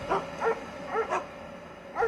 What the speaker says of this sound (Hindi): तभी मुझे कॉटेज के बाहर कई सारे कुत्तों के भौंकने और रोने की आवाज सुनाई।